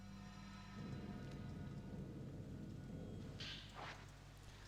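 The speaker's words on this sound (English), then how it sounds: "Alright, and it's raining." Rain and rolling thunder in the horror video game Fatal Frame: Maiden of Black Water, a steady wash of rainfall with a low rumble underneath and a brief brighter crackle near the end, fairly quiet throughout.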